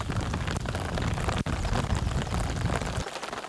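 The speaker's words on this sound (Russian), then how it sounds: "Дождик разошелся не на шутку, барабанит по моему тенту." Hard rain pounds a camping tent beside a river on a packrafting trip, a loud, unbroken drumming of drops right overhead that briefly thins near the end, with no voices.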